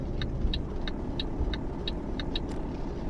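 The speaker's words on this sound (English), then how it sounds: "Turn the truck around." Truck engine in Euro Truck Simulator 2 hums at a steady low drone while the truck turns around, with a run of evenly spaced light ticking clicks, like an indicator, over it; no one talks.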